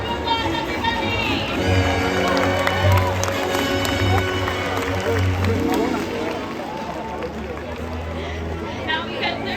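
Applause and cheering from the audience at an orca show at SeaWorld San Diego, a broad crowd roar under loud background music and an amplified voice.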